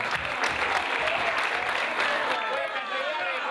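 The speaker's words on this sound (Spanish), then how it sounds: "un fuerte aplauso para el compañero de" Audience at a fishing tournament awards breaks into loud, dense applause, a short, steady burst of many hands clapping with some crowd voices mixed in.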